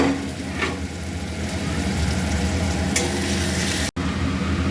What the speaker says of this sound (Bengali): পেঁয়াজটা একটু ভাজা ভাজা হয়ে গেছে, এবার রসুনটা দিয়ে দেব।